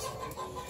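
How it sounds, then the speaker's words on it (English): Chickens in a barn giving a brief burst of clucking, close and moderately loud over a steady background hum. "you're going to hear lots of roosters and chickens"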